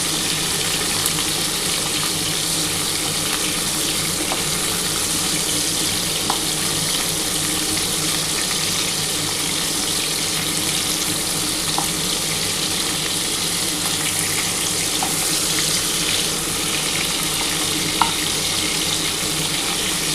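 Prawns frying in a pan give a steady, even sizzle that holds for the whole stretch, close and moderately loud, with a few faint clicks and taps scattered through it and no voices.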